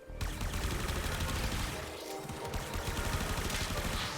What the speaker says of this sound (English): Not even sure who's shooting at me necessarily.